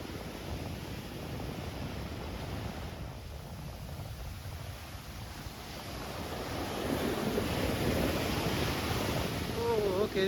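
Strong gusting wind buffets the microphone over crashing surf on Chaweng Beach, Koh Samui, Thailand, a loud, continuous roar that swells toward the end, with no clear speech.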